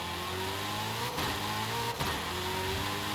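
Hennessy Venom supercar engine in Forza Horizon 5, a steady loud drone with rising and falling harmonic tones, shifting pitch around two brief dips, continuous throughout without voices.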